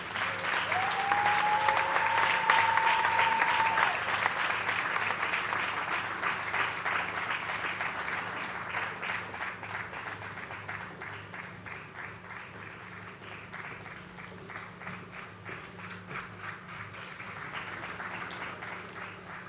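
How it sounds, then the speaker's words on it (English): Sustained applause from an awards ceremony audience, a dense steady wash of clapping from a large crowd that swells early and then gradually eases while continuing throughout, with a brief vocal cheer near the start. "with a resounding round of applause, let us at the same time celebrate our first recipient, Mohammed Samara."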